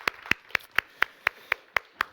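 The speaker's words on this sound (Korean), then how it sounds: "우리 하나님께 영광의 박수 올려드리겠습니다" A church congregation at an Easter Sunday service claps in an even, unified rhythm, nine crisp beats about a quarter second apart, close and fairly loud with no talking.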